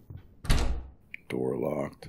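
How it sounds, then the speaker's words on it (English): A locked drawer being tried in the PC indie horror game Suite 776: a sharp rattling thunk from the drawer, then a voice speaking close right after. "Drawer is still locked."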